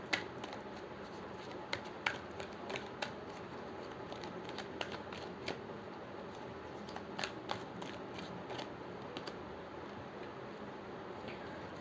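Tarot cards are drawn and shuffled, giving soft, fast ticks and snaps of card edges against a faint, steady background hiss.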